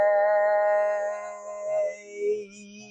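A single voice chants a three-part toning sound for chakra meditation, sustained sung vowels sliding through several pitches, close and unaccompanied.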